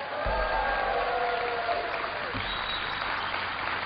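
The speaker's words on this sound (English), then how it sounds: "Give them a big round of applause" Steady applause fills a session chamber of the House, a sustained even patter of many hands from start to finish, moderately loud with faint crowd murmur beneath.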